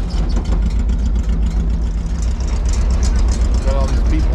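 Volkswagen Beetle engine running steadily up close as the car creeps forward, a loud, continuous low rumble with voices talking over it.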